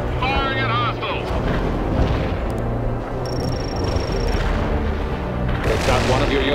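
Heavy artillery fire and explosions in the video game World in Conflict, a dense, loud rumble of booms and blasts running throughout, with radio-style voices talking over the battle.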